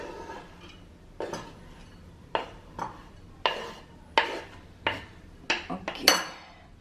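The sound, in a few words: cut green leaves being put into a bowl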